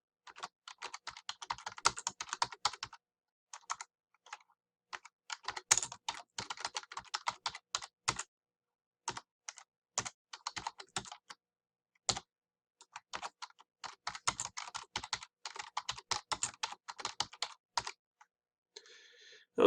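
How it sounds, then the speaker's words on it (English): Bursts of quick typing on a computer keyboard enter text for a social media graphic, with crisp close keystrokes coming in runs separated by short pauses. "what I'm going to do is type in the first part of the text"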